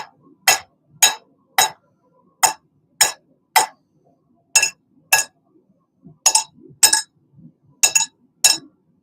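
Hammer blows on hot steel while forging throwing knives, ringing sharp metallic strikes in an irregular rhythm of single hits and paired taps, close and clear with quiet gaps between.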